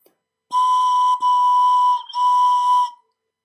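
High notes played on a pan flute by blowing air down into the pipe: three sustained, breathy whistle-like tones in a row, loud and close, the first two joined by brief breaks, then silence.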